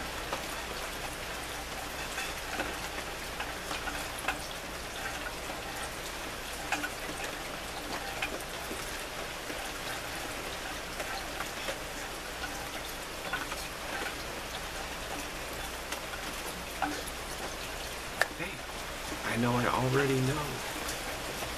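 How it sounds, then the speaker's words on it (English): Rain falls in a steady, even hiss of many drops spread across the whole stretch, moderately loud and unbroken, with a brief spoken voice near the end. "I think it's starting to rain a little bit."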